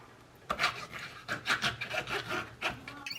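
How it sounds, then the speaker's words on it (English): A small silicone garlic roller rubbed back and forth to peel garlic cloves, giving a run of soft, close rubbing and rasping strokes in short bursts with no talk. "This is a little silicone roller that you put the garlic in that peels the garlic"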